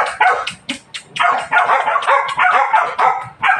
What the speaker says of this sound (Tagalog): Nanguwag yung aso.